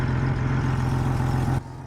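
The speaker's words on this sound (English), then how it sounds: "I'm pretty sure I have an exhaust leak" A car engine with an exhaust leak idles with a steady low rumble and a rough, chuffing pulse, loud and close, dropping in level near the end.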